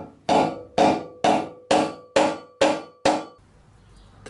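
Hammer blows flattening a copper bus bar for a 1968 MGC fuse panel upgrade: seven sharp, ringing metallic strikes at an even, steady rhythm, close and loud, then a quiet tail with no talk.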